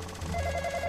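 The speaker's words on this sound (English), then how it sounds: "Alright, my phone's ringing." A phone rings in the Roblox horror game Midnight Motel, a short electronic ringtone with a sustained tonal pulse, moderately loud and heard alone.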